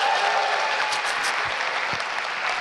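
Steady, dense applause from the audience at an Indonesian stand-up comedy show, a continuous wash of many hands clapping at an even level for the whole stretch.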